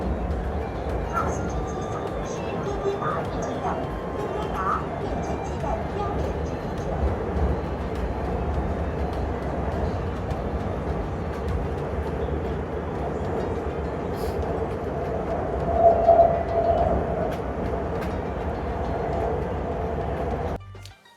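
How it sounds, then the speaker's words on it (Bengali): A metro train carries passengers through Changchun, China, with a steady close rumble and rolling hum running throughout and a brief louder swell near the end before it cuts off. "আমরা মেট্রোতে উঠে গেছি।"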